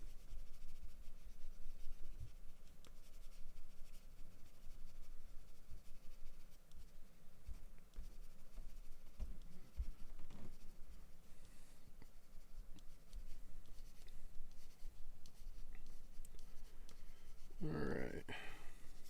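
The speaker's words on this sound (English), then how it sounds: "I want to get into using the 2B and B pencils" Soft, continuous scratching of a 2B graphite pencil on paper while drawing a tree, steady and close, with a brief louder rustle near the end.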